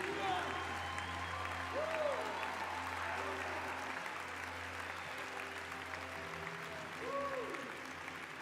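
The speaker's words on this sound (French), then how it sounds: "Keep clapping if you see someone coming down." An audience at a church event claps steadily and continuously, a dense wash of applause heard alongside singing and voices.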